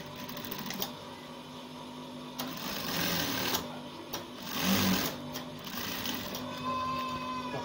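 Sewing machine stitching the shoulder seam of a button-down shirt, a steady close mechanical whir running throughout with brief pauses and speed changes, no voices.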